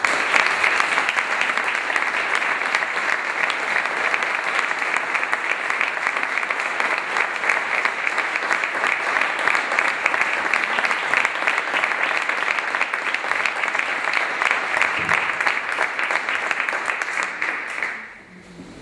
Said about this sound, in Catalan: Amb un fort i merescut aplaudiment